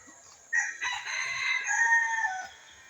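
A single rooster crows loudly and close by, one long drawn-out cock-a-doodle-doo lasting about two seconds, with no other sounds around it.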